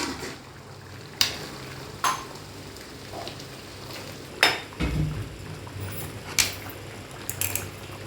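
Chicken curry is stirred in a pot with a spoon, giving soft scraping and wet bubbling under a low simmering hiss, broken by several sharp clinks of metal against the pot.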